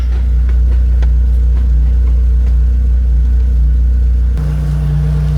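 A car engine idles with a heavy, steady low rumble, close and loud, with no gear engaged; a slight shift in tone comes near the end.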